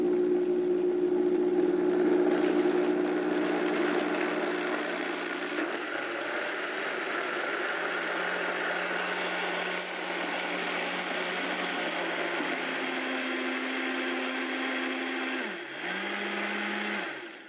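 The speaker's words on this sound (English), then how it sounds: "We're gonna get this blended up." A blender runs steadily for a long stretch blending kale, a loud whirring drone that shifts pitch partway through and briefly dips near the end.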